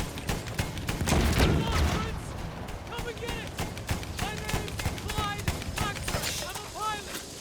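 Rapid bursts of Battlefield 1 gunfire crackle over dense background noise, with talking mixed in throughout.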